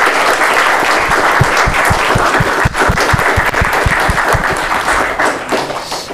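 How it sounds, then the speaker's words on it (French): Loud, close audience applause at an evening creative talk, dense clapping with sharp individual claps standing out, sustained throughout and tapering slightly near the end. "Applaudissements, c'est la dernière."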